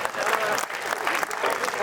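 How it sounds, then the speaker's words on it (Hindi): Audience applause at a Hindi kavi sammelan poetry recital in Gondia, a loud, dense burst of many hands clapping that stays steady throughout, with some crowd voices mixed in. "ताली बजाओ, सांस लेना है।"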